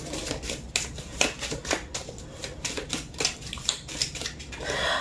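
A deck of new tarot cards being shuffled and pulled, giving a steady run of soft, close papery flicks and rustles over faint room noise.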